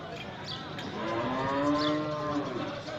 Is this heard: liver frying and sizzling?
no